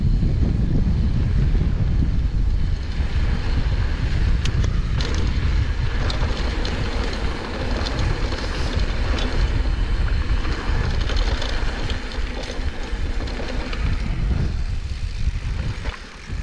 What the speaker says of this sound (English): it's too windy for comfort